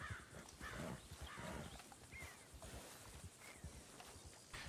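A horse's hooves clatter away in Red Dead Redemption 2, a quiet, irregular run of clip-clop beats heard faintly amid soft background noise.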